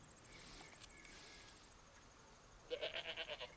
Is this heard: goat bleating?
yes